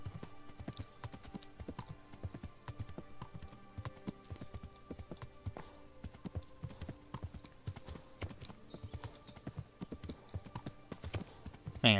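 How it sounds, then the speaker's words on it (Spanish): A horse gallops steadily in the medieval video game Kingdom Come: Deliverance, its hoofbeats a quick, even clip-clop rhythm at moderate loudness. The pounding runs continuously for the whole stretch. "Venga, el caballo aguanta bien ahí corriendo"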